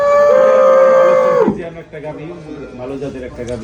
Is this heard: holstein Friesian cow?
yes